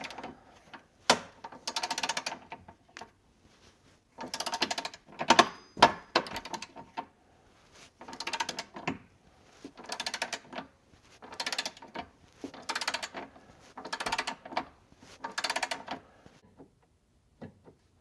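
A torque wrench set to 20 foot-pounds clicks and ratchets in repeated bursts while bolts for Polaris rock sliders are tightened, with short pauses between bolts and a close, mechanical clatter.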